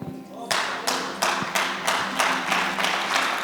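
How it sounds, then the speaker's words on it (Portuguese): A church congregation claps in unison at a Portuguese-language service, about eight strong, evenly spaced beats roughly every third of a second, loud and close in a reverberant room. "Pois, é bom bater palmas"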